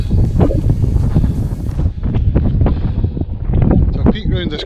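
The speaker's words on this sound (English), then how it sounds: "it's very windy" Strong mountain gusts roar across the microphone in heavy, uneven bursts on a ridge walk on the Isle of Arran, with a voice breaking through briefly near the end.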